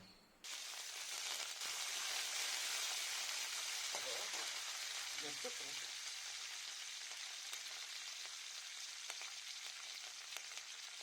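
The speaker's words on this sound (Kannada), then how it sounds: "ಇವೆಲ್ಲವನ್ನ ಸೇರಿಸಿದ ನಂತರ ಕಡಲೆಬೇಳೆ ಕಂದು ಬಣ್ಣ ಬರೋವರೆಗೂ ಹುರಿದುಕೊಳ್ಬೇಕಾಗತ್ತೆ" Chana dal and curry leaves frying in hot oil, a continuous dense crackle that starts abruptly and holds steady, with a few faint low knocks partway through.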